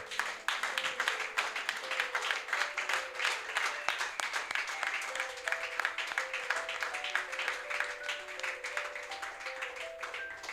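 A church congregation applauds together in sustained, dense clapping that holds steady for the whole stretch, with faint sustained tones sounding beneath it.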